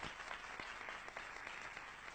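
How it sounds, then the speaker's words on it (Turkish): Studio audience applause sending off contestants at the end of a 1990s Turkish pool game show, a dense, continuous clapping from many people at moderate distance with no talk over it. "Alkışlarınızla uğurluyoruz yarışmacılarımızı"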